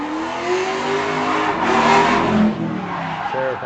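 A street-class drift car at Redding Motorsports Park howls on throttle as its tires skid and squeal through a corner, loud and close, engine pitch rising and wavering.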